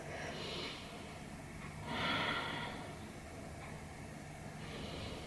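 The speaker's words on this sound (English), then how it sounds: "let's take 3 more big breaths" Slow, deep breaths during a yoga stretch class, three broad airy swells of inhale and exhale at a steady pace, close and soft, with no talking.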